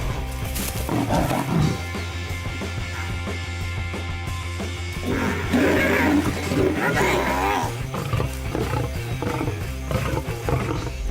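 A male lion gives deep, loud, sustained roars at a hyena in the wild, rumbling continuously and growing harsher midway, with a few higher yelps from the hyena around it.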